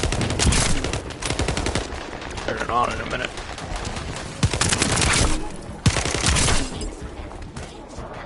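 Hand cannon shots in the sci-fi shooter The First Descendant, firing as rapid, dense bursts across the whole clip with heavy game noise, while someone talks over the shooting.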